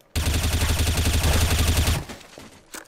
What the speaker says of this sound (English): Okay, someone's shooting now.